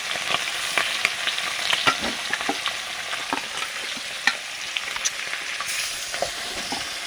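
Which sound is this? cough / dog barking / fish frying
fish frying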